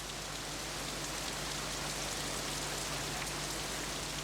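Torrential rain pours down in a dense, constant roaring hiss that stays at the same level throughout, with no breaks.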